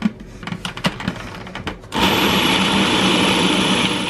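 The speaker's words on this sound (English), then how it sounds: "So we're going to give this a little mix and see where we're at." Oat milk, dates and other wet ingredients blended in a kitchen: a few seconds of clattering and knocking, then a loud, steady whirring motor that runs to the end, with no voices.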